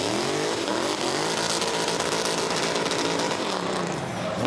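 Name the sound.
drift car with supercharged Toyota V8 engine revving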